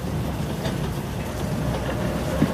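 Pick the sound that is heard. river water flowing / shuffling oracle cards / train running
train running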